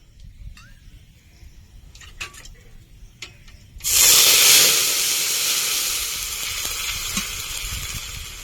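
Water poured into a pan of ginger, cumin and chili pastes for an omelette curry bursts into loud, sharp sizzling and hissing after a few quiet seconds of faint clicks, then settles into a steady steamy sizzle.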